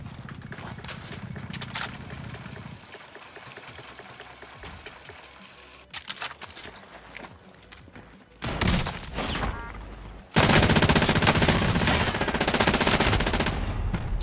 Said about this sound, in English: C'est une balle de pompe à un demi-mètre.